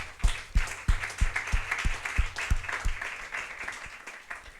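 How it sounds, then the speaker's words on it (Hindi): Church congregation clapping during a sermon, a steady crowd applause with sharp rhythmic claps near the mic standing out over the wash of hands. "एक बार फिर से जोर से ताली बजाएं हम"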